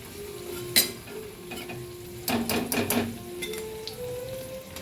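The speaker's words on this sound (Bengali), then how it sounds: "ওলট পালট করে আমি সুন্দর করে এগুলোকে আমি ভেজে নেব।" Vegetarian paneer cutlets frying in oil and being turned, a low steady sizzle broken by clinks of a utensil and a cluster of scraping taps.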